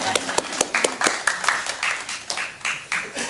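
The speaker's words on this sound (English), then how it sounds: "So maybe I should be applauding you for coming out for Bill." Scattered audience applause at a poetry reading, sharp claps rising and falling in an uneven patter, fairly close and moderately loud with no voice over it.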